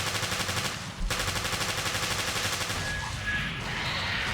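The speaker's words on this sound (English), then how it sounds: "You see here Jessica shooting the second invisible hunter right in front of her" Rapid gunfire in the Resident Evil Revelations game Raid Mode as a character shoots an invisible hunter, a fast rattling stream of shots at moderate volume that continues over constant game background noise.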